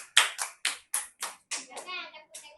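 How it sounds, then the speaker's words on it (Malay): Children in a classroom clap their hands in a quick, fairly steady run of about eight sharp claps, close and clear, with a voice briefly heard near the end. "Okey, tepuk tangan."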